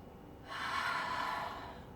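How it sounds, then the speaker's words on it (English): A single deep exhale during yoga breath work: soft, airy whoosh rising and fading over about a second, close and quiet, with no talking. "Inhale deeply. Little hold, exhale"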